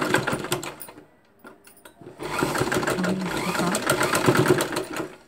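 A sewing machine stitches a nighty gown in a burst of rapid whirring, pauses briefly, then runs steadily again, loud and close.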